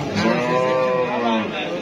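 A pregnant Friesian dairy cow at the Shimulia cattle market lets out a single long, close moo, with faint human chatter around it.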